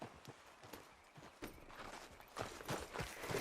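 Horse hooves clip-clop at a walking pace in Red Dead Redemption 2, a steady, fairly faint rhythm of soft thuds that grows a little louder toward the end, with no talking over it.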